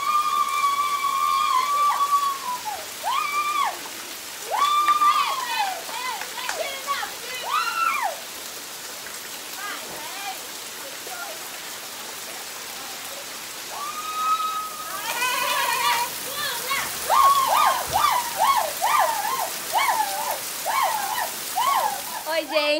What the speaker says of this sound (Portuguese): É chuva, minha filha.